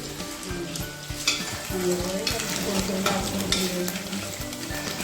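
Spices sauté in a pan for mutton curry, a close, steady sizzle with crackling pops and rhythmic stirring knocks against the pan.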